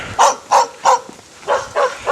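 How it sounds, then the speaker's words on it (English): A dog barks six times in a fairly even rhythm, two groups of three, close and loud with nobody talking. "Oh, there's a dog now, everyone."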